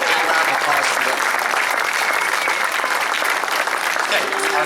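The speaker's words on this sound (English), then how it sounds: "A big round of applause for them." A crowd applauds steadily at a varsity athletics awards ceremony, a dense, sustained clatter of many hands clapping throughout at an even loudness.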